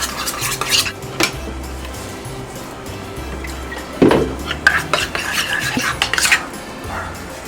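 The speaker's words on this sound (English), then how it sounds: "Since it's too thick, I'm gonna make it a little runnier with a little bit of almond milk. And I'm gonna mix it." A spoon stirring light sour cream thinned with almond milk in a bowl for healthy chicken enchiladas, giving soft wet scraping and clinking strokes close by, with a few louder knocks against the dish and no speech.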